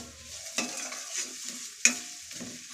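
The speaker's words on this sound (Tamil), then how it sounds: "வெங்காயத்தை நல்லா வதக்கிக்கிடணும்" Onions are stirred and sautéed in a pan: a soft background sizzle broken by a few scraping strokes and one sharper clink of the spatula, close and fairly quiet, with no talk.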